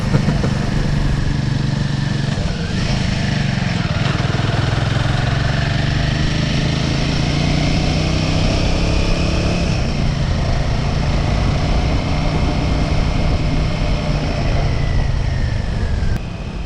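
A Royal Enfield Himalayan 450 motorcycle rides a mountain road in the Kolli hills, its engine a loud, constant drone with gradually shifting pitch under wind noise and no talk.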